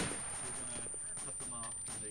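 Arma 2 gunfire with tracer rounds, a steady stream of rapid shots and bursts heard at middling distance over a constant background hum, with voices talking over it.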